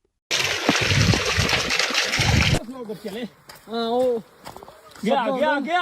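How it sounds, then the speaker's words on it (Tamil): Water gushes out of a tree that supplies a whole village, a loud, steady splashing rush for about two seconds before voices take over in talk. "இங்கு மரத்தில் இருந்து தண்ணீர் அந்த கிராமத்திற்கே சப்ளை ஆகிறது."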